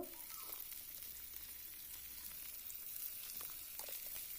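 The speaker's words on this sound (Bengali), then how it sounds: "তেল দিয়ে দিলাম আর মশলা দিয়ে আলু আলুগুলো এবার লাল লাল করে ভেজে নেব" Potatoes frying in oil with spices in a pan for a Bengali home meal, a faint but steady sizzle with a few light stirring scrapes, heard alone.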